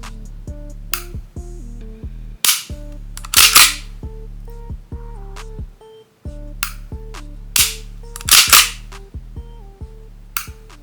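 Lancer Tactical LTX Glock-style airsoft pistol firing a run of sharp, snappy shots in uneven bursts, each crack close and loud over a steady mechanical hum between trigger pulls.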